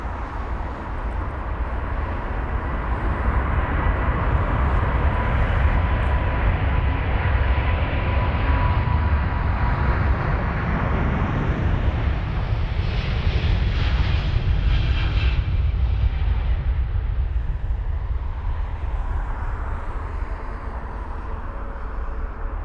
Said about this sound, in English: There's the A350 1000 rotating.